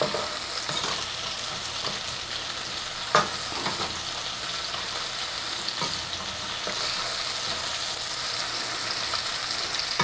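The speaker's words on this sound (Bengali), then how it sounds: "দেখুন পেঁয়াজটা একটু নরম নরম হয়ে এসেছে" Onion frying in a pan for a Bengali fish-head and mung dal curry, a steady close sizzle running throughout with occasional stirring scrapes and one sharp knock partway through.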